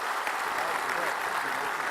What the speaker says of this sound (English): So everyone give a warm round of applause for both Vivek and for Don.